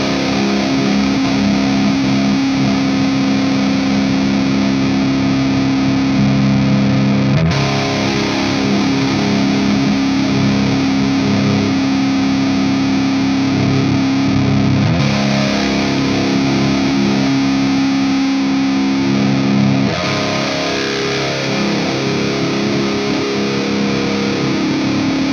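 An electric guitar played through a Walrus Audio Polychrome flanger pedal rings with dense, sustained chords and a subtle sweeping, mildly distorted character, steady and close throughout with no talking.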